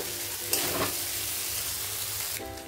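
Noodles being stirred in a hot pan, a steady frying sizzle with a brief scraping burst near the start, continuous and close with no talking.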